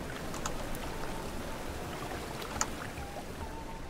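Steady rainfall in The Witcher 3 open-world game, a soft continuous patter at low level with scattered faint drips and splashes and no voices over it.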